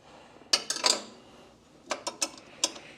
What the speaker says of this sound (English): just to tighten this up, just grab another 10 mil wrench